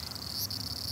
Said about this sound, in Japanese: あ、セミの音が聞こえてきた。